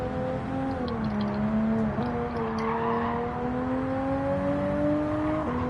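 A Toyota Supra race car engine in Gran Turismo 7 drones loud and steady, its pitch rising and dipping through gear changes, with faint tire noise underneath and no talk.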